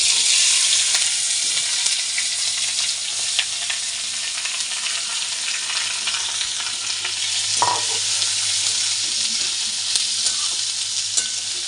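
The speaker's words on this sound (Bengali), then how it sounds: "পেঁয়াজটা একটু লাল লাল করে ভেজে নেব মানে বাদামি কালার করে নেব" Chopped onion fries in a pan with whole spices, cardamom, cinnamon, cumin, chilli and a bay leaf, making a loud, constant close sizzle with occasional stirring scrapes and no voices.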